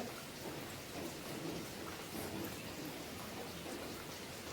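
Steady rain falls in a rural village setting, a dense even hiss of drops on surfaces that continues unbroken, moderately loud, with no talk.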